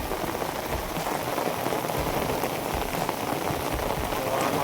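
Heavy monsoon rain in Palitana, Bhavnagar, falls hard and constant, a dense hiss of drops striking surfaces nearby, unbroken for the whole stretch.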